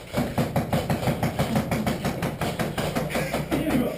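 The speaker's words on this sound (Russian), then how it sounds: "Как пулемет работает." A machine gun fires in Battlefield 3 during a shop firefight, a loud, close, rapid and regular burst of shots that goes on without pause for about four seconds.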